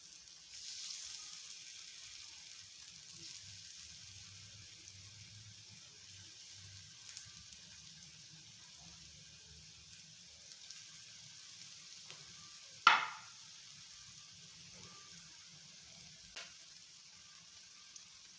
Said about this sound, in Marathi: आता आपल्याला त्याच्यात हे बटाट्याचे काप सोडून घ्यायचे आणि गॅस मीडियम करायचा आहे